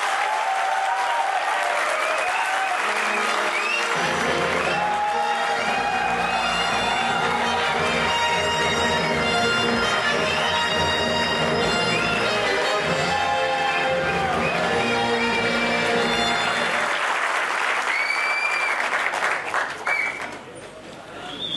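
An audience welcomes Anupam Kher onto the stage at a film masterclass event with sustained, dense applause and cheering, loud and continuous for about twenty seconds with music and voices underneath, thinning out at the close.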